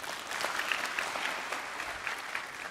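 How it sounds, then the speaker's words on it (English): Audience applause after a keynote at a Huawei data storage innovation event, a soft, fairly distant and even patter of many hands clapping steadily throughout. "Big applause to Mr."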